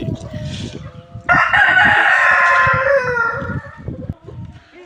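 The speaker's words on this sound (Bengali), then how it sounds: "এটা হলো তোমার কলম্বিয়ান লাইট ব্রাহ্মা ফিমেল" A seven-month-old Colombian Light Brahma hen gives a loud, close drawn-out call lasting a couple of seconds, framed by softer clucks and scratchy yard noise before and after.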